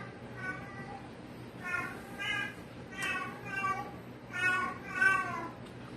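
A cat meows repeatedly in a series of drawn-out, moderately loud calls, about six across several seconds, heard indoors over a low steady background hum.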